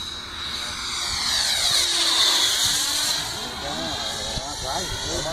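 An RC Zagi model jet powered by a 90mm 8S electric ducted fan makes a loud jet-like whine that sweeps past, rising and then falling as it flies by outdoors, with people talking nearby.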